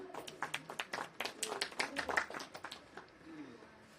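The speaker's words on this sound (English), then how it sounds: "Let's welcome them with a big round of applause for their skit on flora, fauna, and the Himalayan ecosystem." School audience clapping for a Class VII skit on the Himalayan ecosystem: a steady patter of many hands, moderately close, fading out near the end, with a faint voice underneath.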